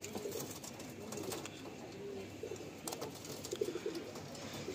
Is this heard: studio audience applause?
no